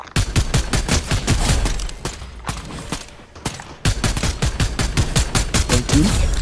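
Rapid bursts of Fortnite gunfire, loud and close, with steady repeated shots in quick succession, a brief lull partway through, then the shooting resumes at full pace.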